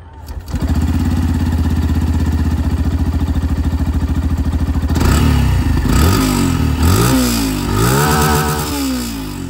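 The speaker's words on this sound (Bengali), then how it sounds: "চলুন তবে এবার যে এক্সস্ট সাউন্ড কতটা সাইলেন্টলি স্টার্ট হচ্ছে সেটাও আপনারা দেখে নিন।" A 2025 Yamaha FZS Fi Hybrid 150cc motorcycle starts up and settles into a steady, close, loud idle, then its exhaust note rises and falls through several throttle blips.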